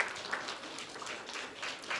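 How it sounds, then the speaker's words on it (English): Crowd applause, a steady wash of many hands clapping at moderate volume, continuing for a couple of seconds without any speech. "So give them one more round of applause real quickly."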